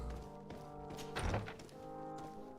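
A door in the video game GreedFall thuds open with a single dull knock-like thunk in the middle, set against a quiet, low background.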